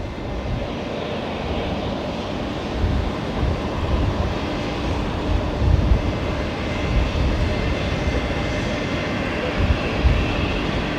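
Aircraft at Brisbane Airport at night turning onto the runway, a loud, steady engine roar and rumble heard from a distance, with faint voices in the background.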